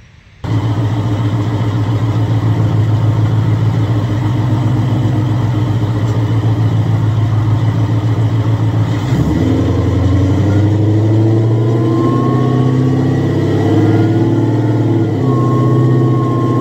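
A supercharged Ford Coyote engine with a new fuel pump on a return fuel system, built for about 900 rear-wheel horsepower, idles with a loud steady rumble, then its pitch shifts midway as the revs change, close and with no talk.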